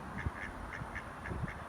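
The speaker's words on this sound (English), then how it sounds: "Look at the little ducks." Small ducks quack softly in a quick, repeated series of short nasal calls, faint and somewhat distant over a low steady background, with no talking.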